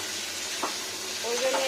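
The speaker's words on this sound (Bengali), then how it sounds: "ডাঁটাটা অল্প ভাজা গেলে তাড়াতাড়ি সেদ্ধ হয়ে যাবে," Drumstick stems fry in a pan with a soft, steady sizzle, faint and close, and a brief stirring scrape partway through.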